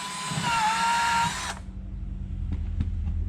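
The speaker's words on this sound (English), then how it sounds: "so I got a 3/16 inch drill bit, and I'll just drill a hole for the anchors to go into" A power drill with a 3/16 inch bit bores a hole in a wall for anchors while a fishing rod rack is installed. A steady, close whine runs for about a second and a half, then cuts off, leaving a low rumble and a few small taps.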